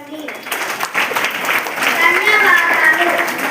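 Schoolchildren in a classroom clap together at a general knowledge quiz, a dense burst of applause that swells and holds for a few seconds with faint voices mixed in.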